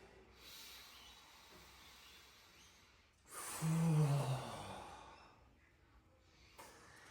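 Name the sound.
deep breathing during chest massage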